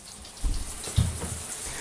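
A shower runs in short, soft splashing bursts of water, fairly faint and somewhat distant, with no talking.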